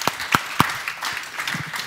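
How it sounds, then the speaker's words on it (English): An education conference audience applauds a panel: a few loud, sharp claps near the start, then a brief scattered patter that quickly thins out. "would you please give the panel a round of uh, applause, please?"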